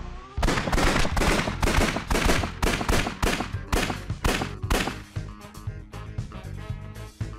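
Rapid bursts of gunfire from a shooter game level, a dozen or so sharp, loud shots in an uneven rhythm, thinning toward the end with no talk over them.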